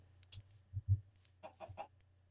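Several soft chicken clucks in Minecraft come in short bursts, quiet and close, with small gaps between them.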